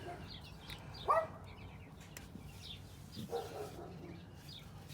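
A dog barks outdoors near a Nissan D21 pickup under repair, two short, sharp barks a couple of seconds apart, moderately distant over faint background noise and bird chirps.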